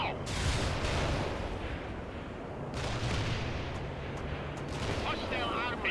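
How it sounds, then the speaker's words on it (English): Missile launch amid gunfire in the video game World in Conflict, a dense rumble of blasts and booms lasting throughout, with short game voice callouts breaking in near the end. "Launch the missile now."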